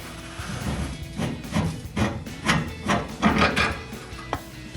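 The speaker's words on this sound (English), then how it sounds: "Whenever this bolt comes out, the entire shock is gonna drop" Rear shock bolt on a Ford F-150 being worked out, a series of close knocks, scrapes and metallic taps in irregular rhythm, ending with a sharp clunk as the shock drops free.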